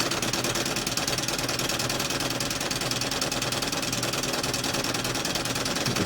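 A small flame-heated Ernst Plank Excelsior Falk hybrid vertical toy steam engine running at a steady fast pace, giving an even, continuous mechanical chatter throughout.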